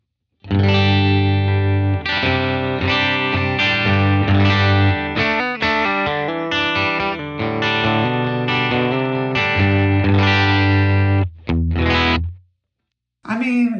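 Electric guitar played through an amp modelled on a Deluxe/Twin with the reverb turned fully off, loud distorted chords and riffs ringing for about twelve seconds before cutting to silence.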